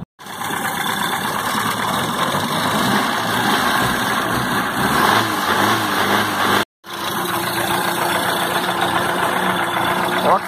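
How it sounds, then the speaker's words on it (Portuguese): A Fiat 147 engine fitted with a Chevrolet Celta ignition coil idles steadily and close by, a continuous rough mechanical hum with a momentary cut near the end before the idle resumes. "olha a lenta que deu. Olha a lenta."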